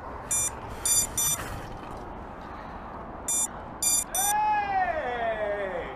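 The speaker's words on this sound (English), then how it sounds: "It's beeping." Short electronic beeps from an FPV drone sound in brief bursts, two or three at a time, over background noise in a park, followed by a rising whistling tone near the end.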